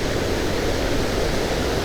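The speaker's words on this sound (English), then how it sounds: "Excuse the noise, obviously right next to the waterfalls" Cauldron Falls waterfall at Glencoe rushing from very close by, a steady dense roar of falling water that holds constant and loud throughout with no break or variation.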